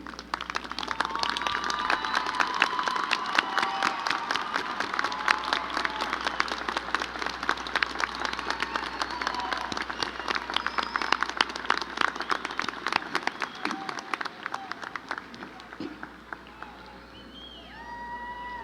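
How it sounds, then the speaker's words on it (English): A large commencement crowd of families and supporters applauds at a university business college graduation ceremony. Sustained, dense clapping fills a big hall, with scattered cheers and whistles, and continues steadily for the whole stretch. "We salute you, and we ask you to please stand for a well-deserved round of applause."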